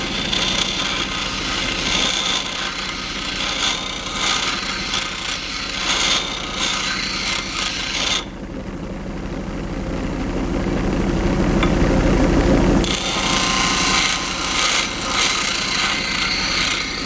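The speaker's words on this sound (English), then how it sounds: "I'm going to go over to the bench grinder right now, and I'm just going to touch these up" A bench grinder touches up the edge of a chamfer router bit with a sustained, gritty grinding hiss, broken by a short lull and then grinding again, loud and close.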